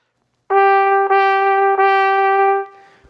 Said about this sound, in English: I can tongue and make sounds in succession by going ta, ta, ta, and it sounds like this.